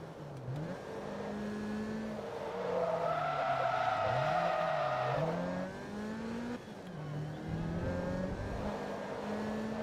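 Racing cars in the Forza video game rev hard and skid with squealing tyres, a continuous engine drone rising and falling in pitch over about ten seconds, loud and close.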